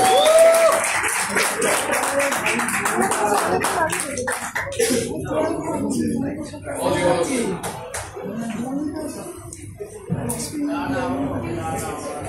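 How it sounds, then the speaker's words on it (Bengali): An audience claps for an honoree at a Bengali original-song event. The applause is strongest at the start, mixed with voices, and thins out as a person begins speaking. "খুব জোড়া হাততালি চাই"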